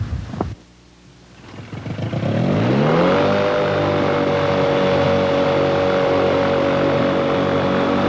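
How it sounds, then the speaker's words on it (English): A Pterodactyl ultralight aircraft engine cranks and catches, rising quickly into a loud, steady buzzing drone that holds unchanged to the end, with no talk over it. "Now that the engine is running"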